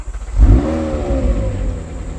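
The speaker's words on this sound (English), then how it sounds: "We'll start the car." A car engine cranks and catches, then revs loudly with a rough, throaty idle; an open-top car, heard close and alone with no talk.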